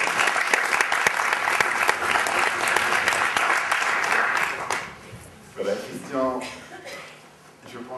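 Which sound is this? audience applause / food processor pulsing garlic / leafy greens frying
audience applause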